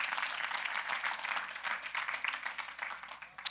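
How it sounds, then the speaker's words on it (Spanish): A church congregation breaks into dense, continuous applause, a steady wash of many hands clapping together at moderate distance, with no voices over it. "podemos darle un aplauso al Señor"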